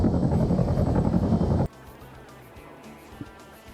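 Helicopter in a military video game: a loud, close rotor and engine roar for over a second, then cutting off sharply into quiet with faint low sounds.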